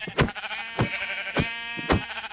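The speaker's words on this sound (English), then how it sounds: "I am so sorry, sheep." Sheep bleating in the Minecraft modpack Enigmatica 2 Expert, four loud, close bleats spaced roughly half a second apart with no talk over them.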